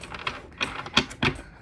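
A large tarot deck being shuffled by hand, several quick papery riffles and taps in uneven bursts, close and fairly soft with no talk.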